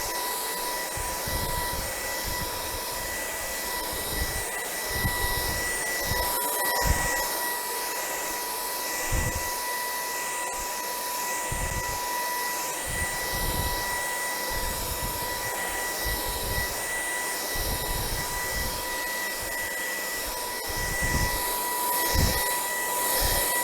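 A BVILY cordless vacuum cleaner runs steadily in turbo mode, a loud continuous high-pitched whine and airflow rush, with intermittent low bumps and knocks as the head moves over a surface.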